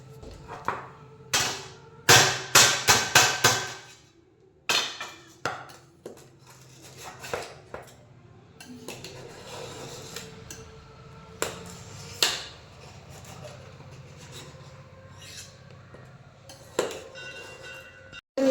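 A knife repeatedly tapping and scoring boiled eggs in an oiled pan, with a dense cluster of sharp metallic clicks early on and then scattered taps and clinks against a faint background hum.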